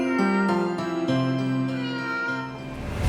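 A grey kitten at a veterinary clinic meows repeatedly, a run of close, tonal cries in quick succession with no talk over them.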